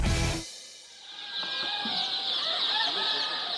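White silkie chickens cluck on a farm, a brief loud burst followed by a busy chorus of overlapping clucks and peeps from many birds, with no talk.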